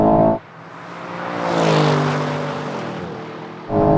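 An Aston Martin V12 in a drag race roars by under hard acceleration, the engine note climbing and swelling loud before dropping away, with an abrupt louder burst at either end.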